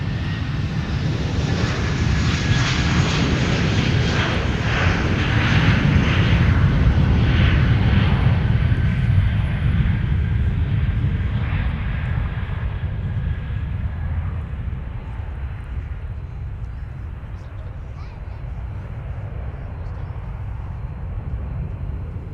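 An airliner departs runway 12 Right at Minneapolis–St. Paul airport with a loud, sustained jet engine roar that swells to a peak near the middle and then slowly fades as it climbs away, with no voices.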